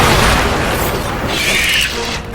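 The Bombarda explosion spell in the video game Hogwarts Legacy sets off a loud, dense boom that fills the short moment, then fades slightly with a rushing tail.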